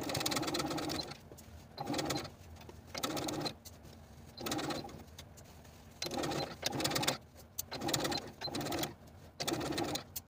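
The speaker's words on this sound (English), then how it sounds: "Then I'm going to stitch very close to that seam line from one side to the other" A home sewing machine runs in repeated bursts, stitching fabric close to a seam line while making a dress. Each close, steady whir lasts about a second and is broken by short pauses.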